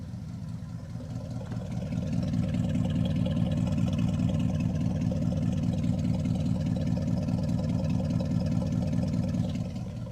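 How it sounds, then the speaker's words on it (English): A crew cab Dodge Charger's engine idles steadily in a low, throbbing rumble, close and continuous, with no one talking over it. "You think that's a good idle?"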